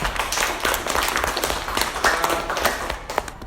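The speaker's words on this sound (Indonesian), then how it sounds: "Kita kasih aplaus untuk kita semua yuk" A classroom full of students claps after a group's presentation during a teaching practicum, giving brisk, irregular applause from many hands that holds steady and nearby for several seconds.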